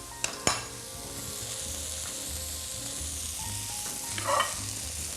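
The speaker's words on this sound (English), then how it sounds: "they cook very quickly, so I'm only gonna cook them for probably about 2 minutes on each side" Squash blossoms frying in a pan, a steady soft sizzle throughout, with a couple of sharp utensil clicks at the start and a brief louder burst of crackling near the end.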